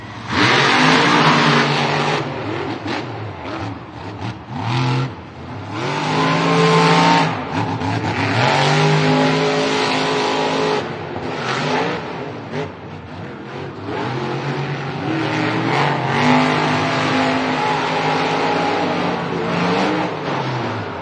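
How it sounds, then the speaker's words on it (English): Monster truck engines roar and rev at the start line of a stadium Monster Jam event in Anaheim, loud throaty bursts rising and falling in pitch over about twenty seconds with no talk. "Both drivers firing up those engines."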